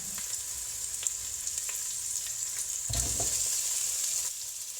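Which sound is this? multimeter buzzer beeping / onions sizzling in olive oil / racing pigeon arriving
onions sizzling in olive oil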